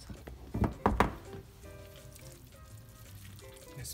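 Spaghetti squash tossed with cheese in a pan for a four-cheese dish: a few close thunks and scrapes of the utensil at the start, then a quieter stretch of soft stirring and faint sizzle under low background murmur.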